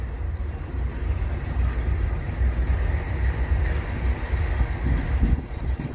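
A Canadian National EMD SD70M-2 locomotive passes with its train, a steady rumbling roar of wheels and rail cars heard outdoors with some wind buffeting, and no talking.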